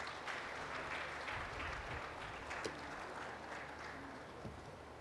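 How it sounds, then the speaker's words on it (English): Steady crowd applause at a business and economy summit, a continuous dense patter of many hands lasting about five seconds at a moderate level. "All right, give a big round of applause as we take pride."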